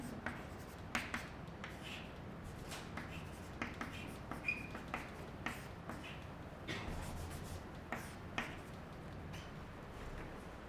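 Chalk or marker writing on a board during a physics lecture, a steady scratching with periodic sharp taps at irregular intervals, close and moderately quiet with no speech.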